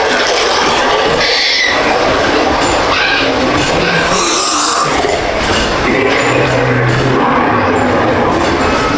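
A Disneyland Paris area train rumbles along the rails with steady clattering and occasional high wheel squeals, loud and close, no voices.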